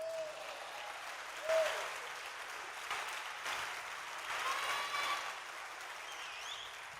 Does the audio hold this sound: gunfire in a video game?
no